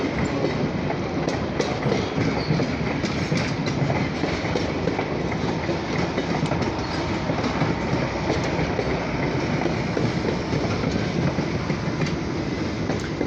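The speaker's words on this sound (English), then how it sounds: "Symbol on that train was OC&T Alco 75" An OC&T passenger train headed by an Alco 75 locomotive rolls past on the rails near Titusville, Pennsylvania, a steady loud rumble of wagons with clickety-clack wheel beats and occasional metallic squeals throughout, with no voices.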